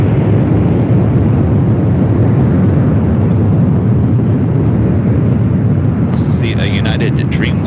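Philippine Airlines 777-300ER jet departing LAX runway 25 right, a heavy, continuous jet roar rumbling at a distance, with a brief chirping sound near the end.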